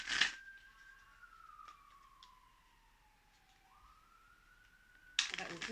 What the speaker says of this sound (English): That one could be a fire engine.